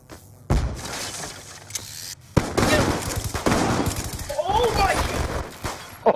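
Video game gunfire shooting through walls, sharp bursts and crackling shots starting abruptly and continuing in clusters, mixed with excited voices talking over the action.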